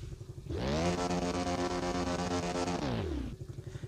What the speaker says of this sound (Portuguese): Família, essa aí é a moto